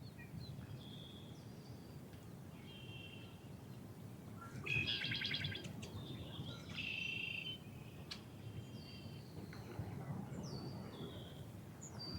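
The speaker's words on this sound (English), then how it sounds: "can hear the birds singing" Birds sing outdoors on a calm spring day in Minnesota beside a carp fishing spot, with several distinct chirps and short trills scattered across the clip over a steady low background hum.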